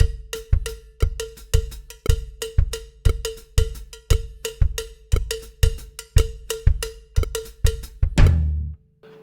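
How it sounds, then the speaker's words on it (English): Drum kit plays a 6/8 Afro-Cuban groove, with a steady cowbell-like ostinato over kick and snare in an even repeating pulse, close and loud, ending on a final crash that rings out. "We have a nice, comfortable 6/8 Afro-Cuban feel, and it sounds kind of hip right off the bat."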